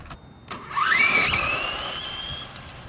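An RC drag car spins its tires, its electric motor whine sweeping sharply upward in pitch and then holding a steady high tone, loud and close, with no voices.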